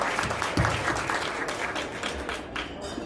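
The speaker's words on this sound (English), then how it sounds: "give yourselves a round of applause for coming out this evening" An audience at a business roundtable holiday awards reception gives sustained applause, a dense patter of many hands clapping at moderate volume that thins toward the end.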